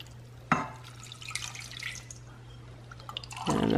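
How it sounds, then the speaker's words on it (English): Water pouring into a container in a kitchen while cooking, a splashing, trickling stream that starts abruptly, runs for about three seconds with small drips, then swells louder at the end over a low steady hum. "And then you're gonna fill this up twice with water."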